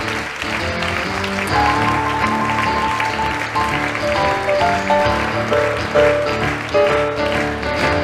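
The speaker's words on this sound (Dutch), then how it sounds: "Das ist euer Applaus" Audience applause at a sports awards ceremony in the canton of Bern carries on under a band playing blues and boogie music, with loud sustained clapping throughout.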